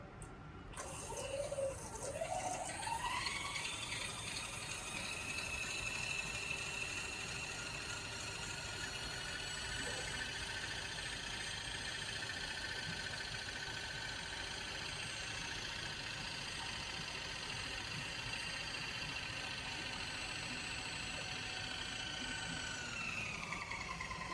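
A Vevor power feed motor drives a milling machine table along the X axis with a steady whine that starts up, then holds an even, faint, continuous tone.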